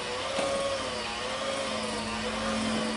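An electric mixer churns cookie dough with a constant loud motor drone and a faint steady whine throughout, with no voices.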